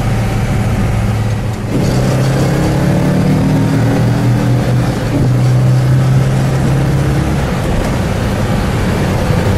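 A blue 1963 Plymouth Savoy's 426 Max Wedge V8 pulls hard in third gear, its loud steady engine note rising continuously through the run, with a brief shift-like dip early on and no talking.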